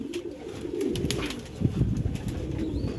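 Pigeons kept on a rooftop loft coo in low, rounded bursts, with a few brief flutters of wings, close and continuous for a few seconds with no talking.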